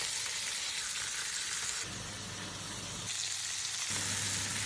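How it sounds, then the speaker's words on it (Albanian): Chicken meat seasoned with salt, garlic powder, basil and red pepper sizzles in a little oil in a pan, a steady close hiss with slight shifts in intensity as pieces are stirred, with no talking. "E skuqi mishin e pulës me pak vaj në tigan"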